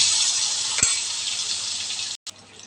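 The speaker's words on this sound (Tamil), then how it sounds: "4 பீஸாக போட்டு நம்ம பொரிச்சு எடுத்துக்கலாம்." Pieces of chicken 65 deep-fry in hot oil, giving a loud, close, continuous sizzling hiss with one brief clink partway through and a short cut near the end.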